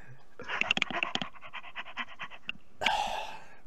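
A person imitates a dog panting during a tabletop role-playing game, quick rhythmic breathy huffs in a short burst, close and fairly quiet, ending with a sharper exhale.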